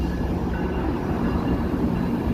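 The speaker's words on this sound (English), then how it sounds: "It's a GO train and it's going" A GO commuter train rolling past in Toronto, a steady loud rumble and rush of wheels on track close by, with no voices.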